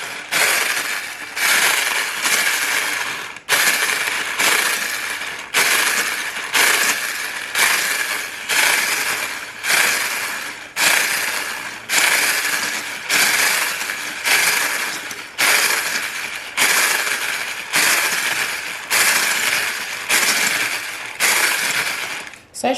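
An electric mixer whips cream toward stiff peaks, giving bursts of loud whirring with regular pauses between them, repeating roughly every second or so for the whole stretch.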